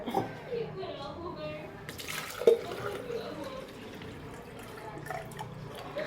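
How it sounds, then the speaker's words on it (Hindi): Water poured into a plastic protein shaker, about 300 ml, in a home kitchen: a steady, soft splashing stream with a brief louder splash partway through, moderately close. "तो मैं इसमें 300 ml लेने वाली हूँ पानी।"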